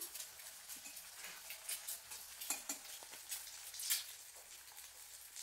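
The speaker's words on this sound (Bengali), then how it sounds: "হাঁসের ডিম ভাজা করছে, হাঁসের ডিম।" A duck egg fries in a pan, giving a faint, soft sizzle broken by light scraping and stirring clicks that come at uneven intervals.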